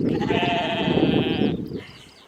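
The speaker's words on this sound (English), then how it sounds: "there's a few little sheep having their lunch already" A sheep grazing beside a road-trip lunch stop in the UK or Ireland gives one drawn-out, wavering bleat, close and clear, then trails off into quiet outdoor air.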